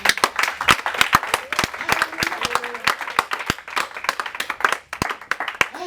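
A church congregation claps in steady, sharp, rhythmic applause, many hands striking together close and loud, with voices faintly heard beneath.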